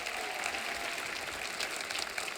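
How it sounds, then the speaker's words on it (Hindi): Steady studio audience applause on a comedy talk show set, a dense, even wash of clapping that holds at a constant level throughout without a break. "एक बार जोरदार तालियां"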